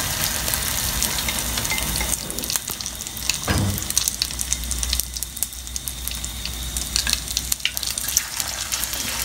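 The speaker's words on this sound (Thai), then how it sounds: "เข่าที่เขาจุ่มในไข่แล้วเขาก็เอามาทอดจ้ะ" Sticky rice balls dipped in beaten egg fry in hot oil, giving a steady broad sizzle with occasional stirring and clatter throughout, fairly close and even in level, no voices.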